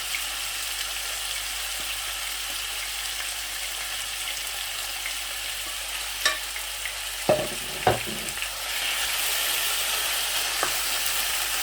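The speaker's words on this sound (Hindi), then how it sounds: "अच्छी तरह से कलेजी को हिला लेना खूब, इस तरीके से मिक्स कर लेना" Beef liver with spices sizzles steadily on a tawa, broad frying hiss throughout, with a few scraping stirs near the middle and the sizzle swelling louder toward the end.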